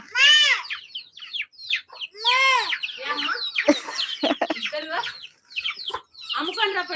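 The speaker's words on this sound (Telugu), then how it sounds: "ఎన్ని కోళ్ళు ఉన్నాయి చూడు మా ఇంటి దగ్గర" Chickens cluck and squawk close by in busy, irregular bursts, with a sharp rising call at the start.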